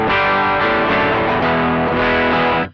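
Electric guitar played through a Hotone Nano Legacy British Invasion mini head, a C30-style amp, with guitar gain and volume full for a slightly broken-up, dirty clean tone; sustained strummed chords ring out loud and close, with no talking.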